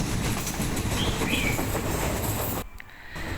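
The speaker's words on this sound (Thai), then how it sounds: "ชอบมากเลยอะเวลารถไฟเข้าอุโมงค์ออกอุโมงค์" A passenger train on Thailand's southern line near Nakhon Si Thammarat runs through mountain tunnels, giving a loud, steady rumbling roar that briefly drops and hollows out before surging back, with no talking.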